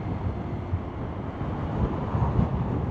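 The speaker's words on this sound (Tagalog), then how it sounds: "Medyo mahangin siya" Continuous low, rumbling wind buffeting the microphone while riding a Honda PCX 160 scooter, fairly steady with slight gusts, no voices.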